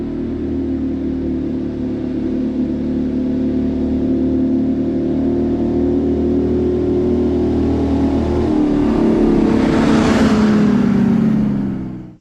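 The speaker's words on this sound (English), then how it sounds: "Nothing like the sound of a two-stroke climbing a grade." An 80-year-old Art Deco bus with a two-stroke engine climbing a grade, loud sustained low engine drone that swells and strains with a rising whoosh near the end.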